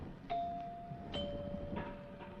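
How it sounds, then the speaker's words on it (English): Two clear doorbell chimes ring out one after another, each a bright sustained tone with a soft ding, against a quiet indoor background. "Nice chimes."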